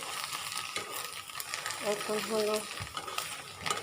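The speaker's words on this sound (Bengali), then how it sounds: "ডিমটাকে একটু ভালোভাবে ভেজে নেব" Egg frying in a pan with a quiet, steady sizzle and soft stirring scrapes, close up, while someone speaks briefly over it.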